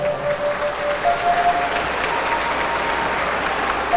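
Sustained applause from an audience filling a hall during a spring celebration concert at a temple, a steady wash of clapping at moderate distance with no speech on top.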